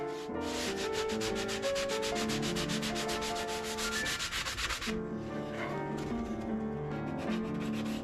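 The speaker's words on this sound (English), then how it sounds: "Take your sanding sponge and go like follows." Steady rhythmic rubbing of a sanding sponge on wooden piano keys, a quick back-and-forth scratching that pauses briefly before resuming at a slower pace.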